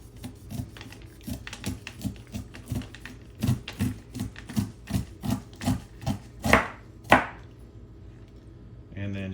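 Knife slicing kernels off a fresh corn cob onto a cutting board, a steady run of close, crisp chopping strokes in an even rhythm, with a couple of louder scrapes near the end.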